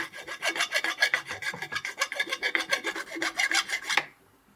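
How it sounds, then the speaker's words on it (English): A hand file rasps rhythmically across cast pewter to rough off the burr on a stein, about two dozen quick, close, scratchy strokes in steady succession before stopping. "the burr is roughly removed with the file"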